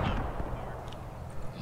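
A frag grenade bursts in the WWII shooter Squad 44 on the Dinant map, a brief muffled boom among scattered distant gunfire over a steady battlefield rumble.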